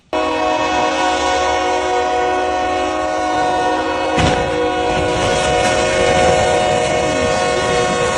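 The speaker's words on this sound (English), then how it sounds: "A violent train collision between Norfolk Southern Unit 4923 and an 1/8 Wheeler in Greer" Norfolk Southern Unit 4923 slams into an 18-wheeler truck at a crossing in Greer: a loud, sustained horn blares throughout, a sharp crashing impact bursts out midway, then heavy rumbling and clatter follow.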